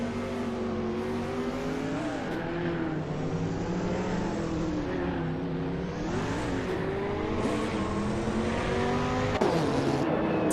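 A Group C sports-prototype race car engine roars continuously in a racing video game, revving up and down through gear changes with steady, loud drone and occasional tire noise, no talk.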